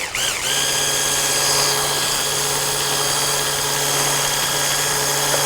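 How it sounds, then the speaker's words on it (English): Handheld immersion blender running continuously in a kitchen, a steady high motor whine with a constant buzzing hum that starts abruptly and holds close and loud. "handy dandy immersion blender."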